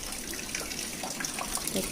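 Water runs steadily from a tap into containers set out for filling, a constant rushing splash at moderate volume through the whole moment.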